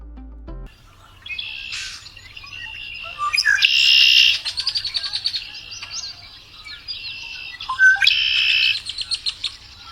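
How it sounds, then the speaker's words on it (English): A red-winged blackbird sings alone outdoors, repeating bright buzzy trills with sharp chirps and liquid notes, loud and close, with brief pauses between phrases. "The red-winged blackbird has a voice that feels like the sound of a marsh waking up"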